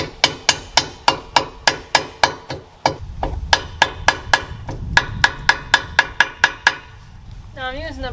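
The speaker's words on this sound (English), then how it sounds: "Now I'm using a brass hammer for this, and I'm using a towel to tap on." A brass hammer taps a wheel bearing into a VW sandrail hub through a towel, about twenty sharp, evenly spaced knocks close up, followed by a brief voice at the end.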